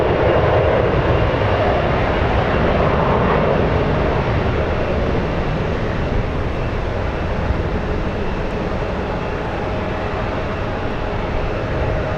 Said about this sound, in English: And E175 getting a move on.